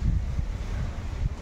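Outdoor wind buffeting the microphone on a sunny, breezy day, a steady low rumble with gusty swells throughout and no voices.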